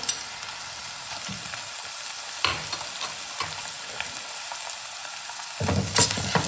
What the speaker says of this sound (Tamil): இப்போ இடித்து வச்ச பச்சை மிளகாயும் போட்டுடலாம். இஞ்சி பூண்டு பேஸ்ட்டையும் போட்டுடலாம்.